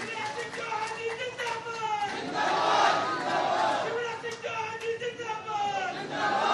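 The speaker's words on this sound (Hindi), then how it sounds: "दोनों हाथ उठाकर जोरदार ताली बजाकर माननीय मुख्यमंत्री जी का अभिनंदन कीजिए" Crowd at an outdoor inauguration of a railway overbridge in Madhya Pradesh cheers and shouts in welcome for the chief minister, a loud, swelling roar of many voices that rises midway and stays strong.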